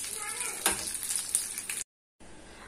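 Fish sizzles and crackles steadily as it fries in a pan in a home kitchen, a close, busy hiss with brief pops, cutting out for a moment before the sizzling resumes.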